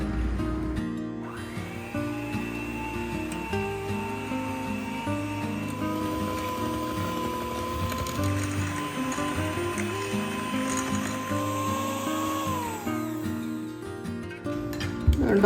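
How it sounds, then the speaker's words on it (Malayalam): Electric hand beater whipping butter and sugar for butter cookies, a steady motor whine holding an even pitch for most of the stretch before winding down near the end, with soft clatter underneath. "ഇനി നമുക്ക് മറ്റേ ഹാൻഡ് ബീറ്റർ ഉണ്ടല്ലോ, ബീറ്റർ വെച്ചിട്ട് നല്ലോണം ഒന്ന് ബീറ്റ് ചെയ്യാം"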